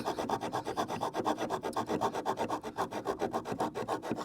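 A hand saw cuts through wood pieces at an off-grid site in Africa, a close, loud rasping stroke repeated in a quick, even rhythm of roughly six strokes per second.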